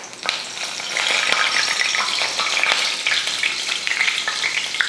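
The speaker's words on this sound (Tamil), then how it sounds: "எண்ணெய் நல்லா காஞ்சிருச்சு, இப்போ பொரிச்சு எடுத்துக்கலாம்." Soya chilli pieces frying in hot oil for a hotel-style chilli rice, a steady close sizzle and bubbling hiss with scattered crackles and pops running the whole time, no voices.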